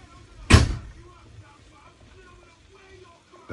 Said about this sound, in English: The door just closed from the wind.